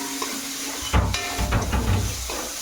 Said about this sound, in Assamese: এইখিনি মই ভাজি ল'ম